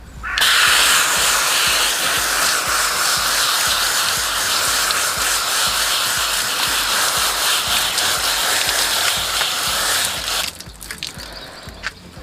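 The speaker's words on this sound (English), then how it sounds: "Now let me just grab a hose and show how easy it is to rinse this off." Garden hose spray rinsing a G3 Pro clay mitt, a loud steady hiss of water that runs unbroken for about ten seconds before cutting off into quieter dripping and handling.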